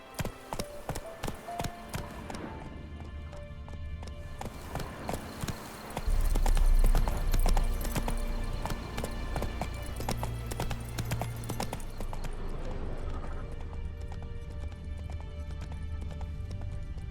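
Roach, the horse in The Witcher 3, trots with rhythmic clip-clopping hooves that grow denser and heavier as the pace picks up, layered over a low rumbling game backdrop and a rattle of gear.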